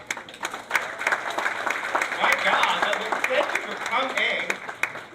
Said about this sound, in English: Senator Sasha Renee Perez, please, a round of applause.